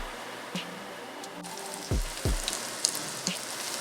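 Steady crackling sizzle from a hot pan, with a few soft thuds as food drops in and occasional sharper pops.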